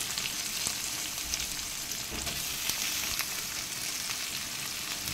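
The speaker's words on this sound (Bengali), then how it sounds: "এইবার দিয়ে দিচ্ছি কেটে রাখা পেঁয়াজগুলো দিয়ে দিলাম।" Chopped onions fry in a pan while bitter gourd and poppy seed curry is cooked, giving a steady close sizzle with scattered small crackles and no pauses throughout.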